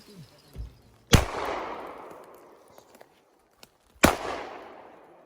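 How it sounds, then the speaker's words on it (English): Two sharp, loud gunshots ring out at a forest campsite, each followed by a long echoing decay, spaced about three seconds apart, with a few faint knocks between them. "That's the first time I shoot like a gangster."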